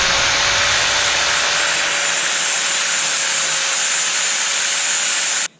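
Angle grinder cutting through the top piece of a stock steel control arm, a loud, steady high-pitched whine with a constant tone held for about five seconds before cutting off abruptly.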